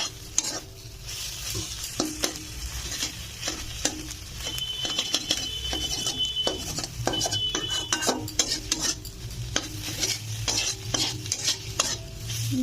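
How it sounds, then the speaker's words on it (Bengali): Egg bhujia, a Bengali scrambled egg, frying in a pan, steady sizzle under repeated sharp clicks and scrapes of a metal spatula against the pan, irregular stirring strokes heard up close for several seconds. "ডিমের ভুজিয়াটা আগে করে নিচ্ছি"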